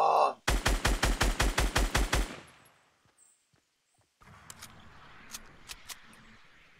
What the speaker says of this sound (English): Somebody's shooting rockets.